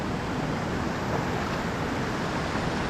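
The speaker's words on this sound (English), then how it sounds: "Next set of waterfalls down." A waterfall on a river in northern New England roars steadily as a dense, unbroken rush of falling water, even and moderately loud throughout with no voices.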